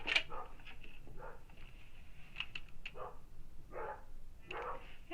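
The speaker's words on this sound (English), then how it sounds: "Between our dog and the neighbor's dogs." Several dogs, a household dog and the neighbor's dogs, bark in scattered bursts, some sharp yips, moderately close with a steady background hum and no talking.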